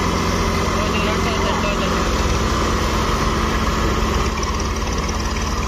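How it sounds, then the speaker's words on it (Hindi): A Swaraj tractor engine runs in a loud, steady, close drone that holds without a break for several seconds. "तो भैया निकल गया ट्रैक्टर,"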